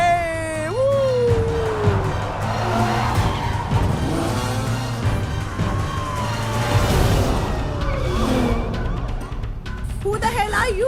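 A car is driven hard in a chase, skidding over a continuous engine roar while a siren-like wail and shouting voices sound on top.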